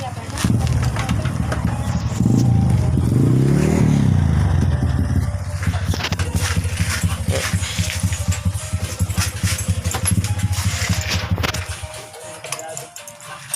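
A Suzuki RC100 motorcycle with a freshly repainted exhaust starts up in a workshop, cranking then settling into a loud, close, rapid two-stroke idle that runs steadily before cutting off near the end, with a voice speaking over it.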